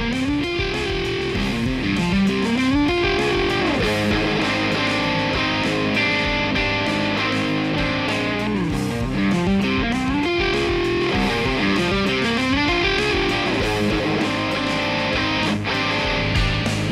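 Electric guitar played through a Peavey ValveKing all-tube amplifier with EQ and switchable gain boost, giving a steady, distorted tone with sliding notes that fills the passage without any voice.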